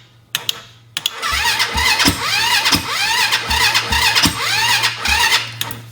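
A gas ATV cranks over with the key in several repeated squealing starter bursts, each strained whir rising and falling in a steady rhythm, loud and close with no talking.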